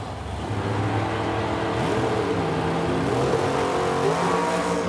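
A Corvette Roadster drag racing at a drag strip in Edmonton, Alberta, its engine roaring loud and steady with a sustained, rising revving tone throughout.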